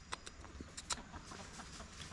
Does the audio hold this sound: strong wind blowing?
no